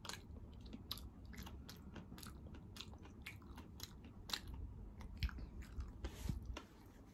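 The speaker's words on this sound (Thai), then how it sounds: "กรอบๆกรุบๆ" Someone crunches on braised pig ear eaten with Chinese garlic, producing repeated crisp, crackly bites and chewing in a close, quiet, uneven rhythm. Nobody speaks.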